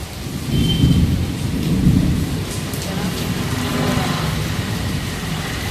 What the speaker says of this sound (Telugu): బయటకు వస్తే చూడండి పెద్ద వర్షం అయితే పడుతుంది